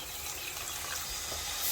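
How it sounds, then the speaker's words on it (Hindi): A small splash of water is poured into a pan of kebab masala gravy seasoned with turmeric, giving a soft, steady trickling hiss that runs throughout at low volume. "यहाँ पे मैं थोड़ा सा पानी ऐड करूँगी"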